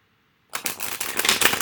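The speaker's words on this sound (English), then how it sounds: "1 more shuffle." A deck of tarot cards is shuffled by hand after a moment of silence, a close, brisk run of rapid riffling flutters that builds and continues steadily to the end.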